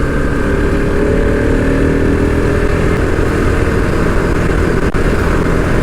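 A motorcycle on a road ride, its engine droning loud and steady up close, with heavy wind rush throughout.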